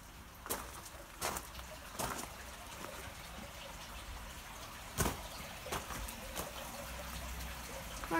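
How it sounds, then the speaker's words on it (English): Water runs steadily among stone abbey ruins, a soft continuous trickle with a few sharper knocks and clatters standing out over it, and nobody speaking. "Running water."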